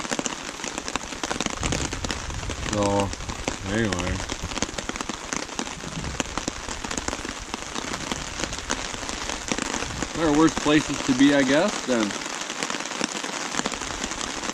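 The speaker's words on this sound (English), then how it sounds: "all of a sudden the rain kicks in again" Steady rain patters densely on surfaces close by at Kawishiwi Lake in the Boundary Waters wilderness, with someone talking briefly over it partway through.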